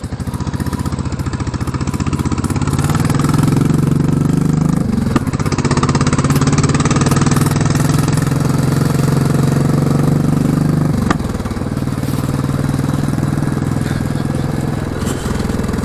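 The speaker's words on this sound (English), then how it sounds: "that's the exhaust" A Royal Enfield Classic 350 motorcycle rumbles steadily on a mountain pass in the Berwyn Mountains, its single-cylinder engine and exhaust loud and close throughout with a slight change in pitch partway through.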